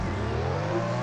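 A car engine hums and revs steadily in a video game, a continuous droning motor tone with no pauses, moderately loud and close for about a second.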